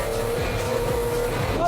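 A car engine running rough on kerosene fuel, a steady loud droning hum with an uneven labouring tone, close by and continuous.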